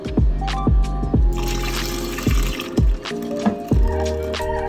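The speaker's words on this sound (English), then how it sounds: "The absolutely disgusting water that came from my mattress." Dirty water from cleaning a mattress pours and splashes out in a series of gurgling glugs and trickles, close by and fairly loud, with no talking.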